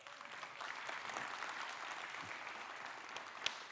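Audience applause at a youth leadership conference, a steady wash of many hands clapping that holds for several seconds without a break, with one sharper clap standing out near the end.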